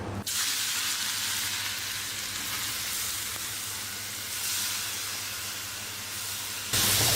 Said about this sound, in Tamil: இப்போ நம்ம கேரட் வந்து நெய்யிலே போட்டுக்கலாம்.